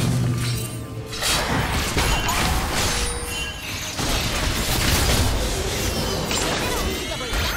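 Loud crashing destruction of a turret in League of Legends, dense smashing and rumbling debris bursts that carry on for several seconds at steady volume, with faint game voice announcements.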